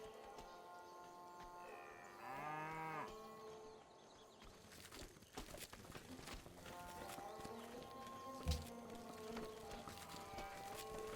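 Cattle in the Civilization V video game give a drawn-out, wavering low moo, followed by clopping and farm-animal ambience under a continuous game music bed, with talk in the background.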